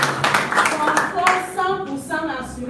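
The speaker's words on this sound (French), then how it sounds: "Est-ce qu'on peut acclamer pour ce produit?" Seminar audience clapping, a short run of quick hand claps at the start giving way to someone speaking over the fading applause.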